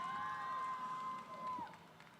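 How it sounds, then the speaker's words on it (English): Festival audience at an author panel applauds and cheers, a steady wash of clapping with a high whoop, faint and distant, tapering toward the end. "Clap it up for Adrian Joseph, everybody"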